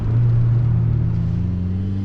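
A turbocharged Mazda MX-5 NA engine runs close by with a steady, loud, low harmonic drone that holds level for about two seconds and has no voices over it.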